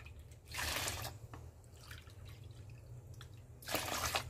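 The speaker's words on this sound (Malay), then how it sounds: "Kita masukkan dua cawan air ya." Water poured in two bursts into a mixture of dissolved sugar while making a red velvet kuih lapis batter, a gentle splashing pour near the start and another near the end, with low steady background hum between.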